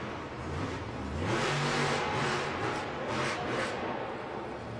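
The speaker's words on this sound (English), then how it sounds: "Oh, we just love hearing that big throttle." A Monster Jam monster truck at a 2010 Atlanta freestyle show roars at full throttle, a loud sustained engine rev that swells in the middle, heard amid arena noise.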